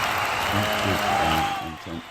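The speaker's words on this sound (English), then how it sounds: "Isn't this where we're supposed to put some round of applause or something like that?" Canned applause sound effect on a podcast, a short burst of dense clapping washing over a voice, which talks over it throughout.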